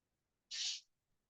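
A single short, sharp sneeze bursts out of near silence, breathy and hissing, fading quickly.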